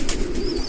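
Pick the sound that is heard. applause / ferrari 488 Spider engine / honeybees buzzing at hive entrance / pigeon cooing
pigeon cooing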